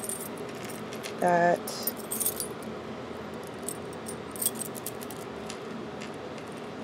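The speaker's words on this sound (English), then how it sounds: "There's so many keys" A bunch of keys found in a purse jangles in one short, bright metallic burst, followed by a few faint clinks as the keys are handled in a quiet indoor space.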